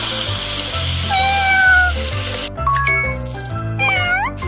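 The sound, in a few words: cat meowing in a video game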